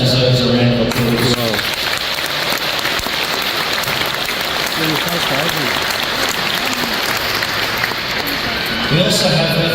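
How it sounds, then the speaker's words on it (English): Audience applause at a Brisbane City Council citizenship ceremony: a loud, dense crowd clapping that runs steadily for several seconds. A voice speaks at the start and again at the very end. "I think that deserves a round of applause"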